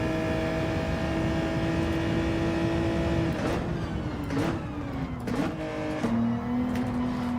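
A Mazda 3 racing in Gran Turismo 7 drones with a steady, close engine note that holds pitch, then drops and climbs again through a few quick gear shifts, with no talk over it.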